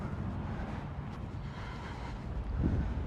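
Wind buffets the microphone in a steady low rumble, with a stronger gust near the end; no voices.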